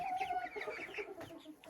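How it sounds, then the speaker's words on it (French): Hens and a bobtail rooster cluck in a backyard flock, with a series of soft, uneven clucks and short calls close by, plus brief bursts of higher chatter over a quiet background. "Là il reste que les poules et juste le coq bobtail."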